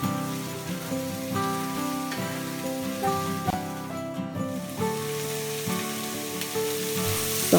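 Chopped onions for aloo gobi fry in a pan with a continuous crackling sizzle, heard under steady tonal background music.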